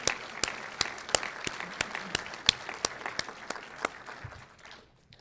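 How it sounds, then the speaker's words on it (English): At a city's State of the City address, an audience applauds the sponsors with fairly quiet, evenly spaced claps over a soft clapping background, the sound dying away to near silence at the end. "I want to give a big round of applause to everybody tonight."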